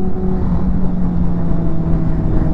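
Motorcycle exhaust note from a bike passing in a fly-by, a loud droning engine tone with a steady pitch and a slight swell, close to the listener, with no voices.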